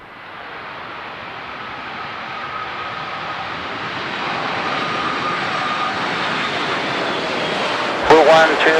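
Arajet Boeing 737 airliner landing on a runway, a steady, loud jet engine roar that builds slowly and holds, ending in a brief burst of louder rumble and mechanical noise.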